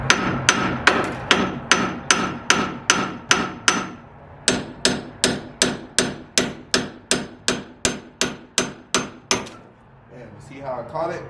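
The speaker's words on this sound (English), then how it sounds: "we need a hammer to" Hammer blows on the front suspension of a Dodge Charger during an Airlift air-bag install, about twenty sharp, evenly spaced metallic strikes in two runs with a short pause between, close and loud, then quiet.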